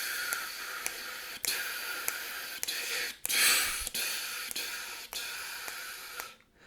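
Breath puffs blown in a band wind pattern, a steady rhythmic series of sharp airy bursts with clear accents, close and alone, ending abruptly.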